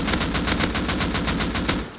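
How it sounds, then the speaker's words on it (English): Gunfire in the Rust video game, a steady rapid stream of about a dozen evenly spaced loud shots, close and unbroken for two seconds. "So I'm gonna shoot over there"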